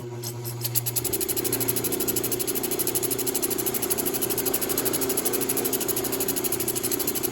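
A Vevor lapidary flat lap machine runs steadily while polishing with Zam compound, a constant motor hum with a buzzing, rattling vibration that starts up after a brief moment and holds evenly throughout.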